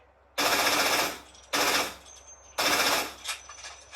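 Three loud bursts of automatic gunfire from a 1942-era weapon in the Fortnite video game, each a sustained rattling volley lasting about a second, with short gaps between.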